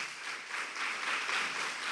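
A church congregation applauds during an online worship service, a soft, steady rush of many hands clapping together at a distance, faint and even throughout with no speech over it.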